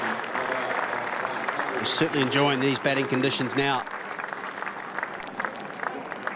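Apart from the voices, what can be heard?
crowd applause at cricket test match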